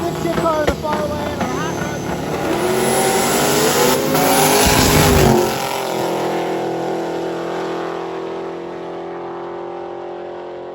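A powerful stick-shift drag racing car engine roars and revs hard, pitch climbing as the car launches, then fading to a lower drone; a voice talks over it.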